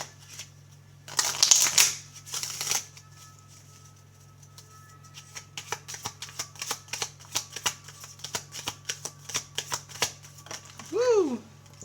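Tarot cards being shuffled and drawn, with a burst of riffling early on, then a long run of quick crisp snaps and flicks. Steady background hum runs throughout, and a brief bird-like chirp comes near the end.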